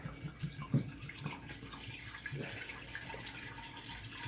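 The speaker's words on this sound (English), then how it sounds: "let's go pour a little bit." Liquid is poured from a bottle into a container for homemade Dit Da Jow iron palm liniment; a faint, soft trickle and splash runs throughout at low level, with a few small knocks near the start and no talk.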